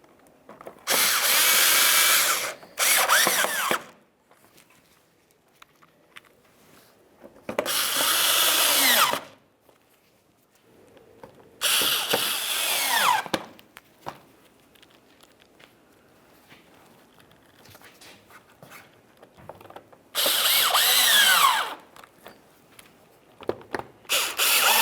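A power drill drives mounting screws on a fog light hole cover for a 2012-2018 Nissan Altima, in five loud whirring bursts of a few seconds each with quiet handling sounds between them.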